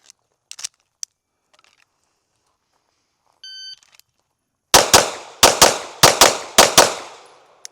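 Rapid handgun fire during a shooting drill: six sharp, loud shots in quick succession, preceded by a few faint clicks and a brief beep.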